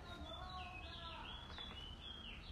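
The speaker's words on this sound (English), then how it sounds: "Dang, that bird's loud outside." A bird outdoors calls in bright, repeated chirps and sweeping whistles, heard faintly from indoors over a steady background hiss.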